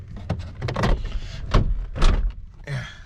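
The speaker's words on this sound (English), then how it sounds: "let's try and close the door first" Several clunks, scrapes and mechanical rattles close by, ending with a thud as a faulty car door that does not close properly is worked shut.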